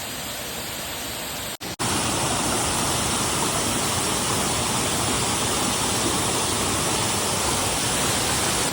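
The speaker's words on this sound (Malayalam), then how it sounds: "അപ്പോൾ അങ്ങനെ ഇതാണ് വാരിയഞ്ചോല വാട്ടർഫാൾ കേട്ടോ." Variyamchola waterfall near Manjeri roars as a dense, steady wash of falling water, loud and close, unbroken after a brief cut near the start.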